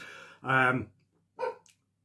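A pet dog barks twice at close range, a longer harmonic bark followed by a shorter one, with quiet gaps between them.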